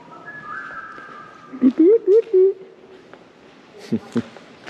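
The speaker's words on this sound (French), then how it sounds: "il y a un gars il s'amuse à siffler là en mode" A man whistles a short rising tune inside an abandoned building with murals, the notes ringing in the empty space, followed by two brief knocks or thumps, with some faint background talk.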